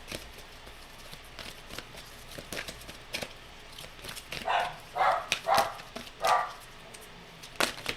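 Several dog barks ring out in a quick series at a moderate distance, alongside soft tapping and shuffling sounds.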